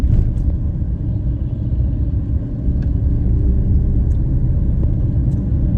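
Engines of a long queue of large vehicles waiting in line rumble continuously, a loud, low, steady drone with no talk over it.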